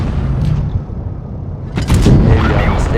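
An SU-122-54 tank destroyer fires its main gun in World of Tanks Blitz: a low engine rumble, then a single heavy, sharp boom that rings out and decays into a loud lingering rumble.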